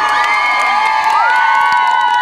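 A concert audience cheers loudly and continuously, with whoops, whistles and high shouts blending into a dense crowd roar.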